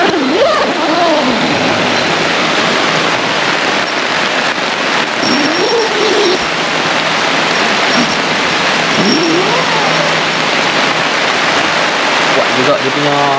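Steady wind and rain pelting a tent, a continuous dense hiss with occasional flapping, and a voice speaking briefly underneath.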